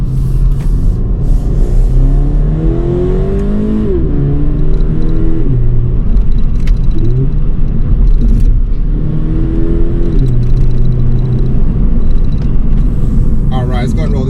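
A 2020 Toyota 86 Hakone Edition accelerating hard at full throttle on the road, its engine note climbing in repeated rising sweeps through the gears with brief dips at shifts, loud and close from inside the cabin over steady road rumble.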